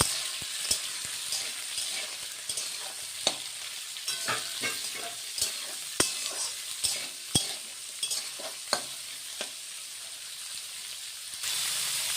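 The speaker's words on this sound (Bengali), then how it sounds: "এখন বটবটি আর গাজরটা ভেজে নিচ্ছি" Beans and carrots fry in a pan for fried rice: a steady soft hiss of sizzling oil broken by sharp scrapes and taps of a stirring spoon, close and without speech.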